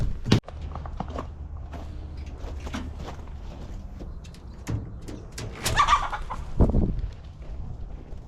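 Birds flap and flutter around inside a shop, giving scattered bursts of wingbeats and a few sharp calls over a steady low hum, with a louder flurry near the end.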